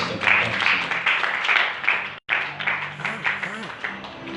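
A church congregation claps and cheers in praise, a lively crowd applause that runs beneath a preacher's voice, breaks off briefly, then resumes as talk continues over it.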